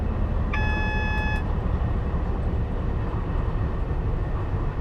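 A Class 66 DRS diesel freight locomotive in the Train Simulator 2015 game rumbles with a loud, steady low engine drone, and a brief electronic cab warning tone sounds near the start before fading.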